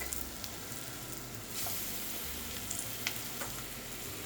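Ground beef for taco meat sizzles steadily in a hot pan, a dense continuous crackle with occasional sharper pops and a brief stir partway through, with no talking.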